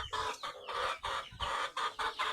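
Chickens clucking close by in a quick series of short, repeated bursts, fairly quiet, with no talking.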